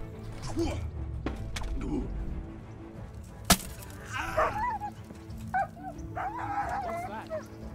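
A dog in the medieval game Kingdom Come: Deliverance barks, yips and whimpers in short bursts at moderate distance, with a voice and game ambience around it.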